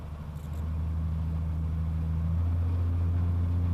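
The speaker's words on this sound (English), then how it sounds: "We're gonna run up to about 1800 RPM and check the mags." A small aircraft engine is run up to about 1800 RPM for a magneto check, a steady low droning hum that rises in pitch and holds, close and continuous with no talk.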